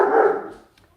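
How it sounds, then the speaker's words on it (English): A dog gives a single loud, close bark that trails off quickly, with no talk over it. "I'm sorry about my dog."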